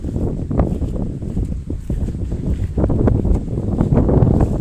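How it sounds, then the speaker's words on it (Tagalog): Strong typhoon wind roars over flattened rice paddies, a steady loud buffeting rush with gusty surges pounding close against the microphone throughout. "malakas ang hangin dito"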